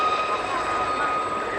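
Gazelle helicopters fly at an airshow display at Cosford, a steady distant engine and rotor drone with a high whine, continuous and even under a commentator's voice.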